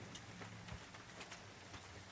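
Steady, quiet rain patters on a surface in the middle of the night, a soft continuous hiss with scattered drop ticks.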